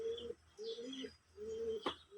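Pakistani Giribaz pigeons cooing nearby, three soft, low rolling coos with short pauses between them and a brief higher chirp near the end, faint and quiet.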